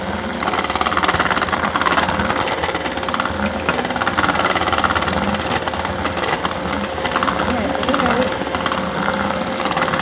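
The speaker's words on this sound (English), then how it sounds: "Whipping it, whipping it, whipping it." An electric mixer whips cake batter for cupcakes made from a keto cake mix, a loud, continuous mechanical whir and rattle running throughout, with a voice speaking over it.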